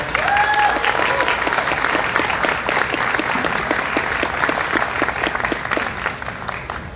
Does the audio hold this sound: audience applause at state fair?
yes